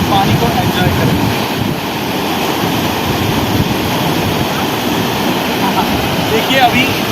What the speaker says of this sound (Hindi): देखिए नदी के बिल्कुल पास आ गए हैं।